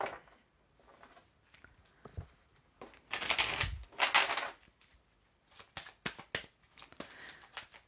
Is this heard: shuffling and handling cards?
yes